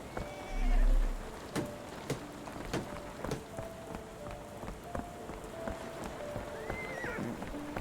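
The horse of a London taxi carriage in Sherlock Holmes: The Awakened gives scattered, sharp hoof clops at a slow, uneven pace. A soft hiss of rain runs underneath, and a low thump sounds near the start.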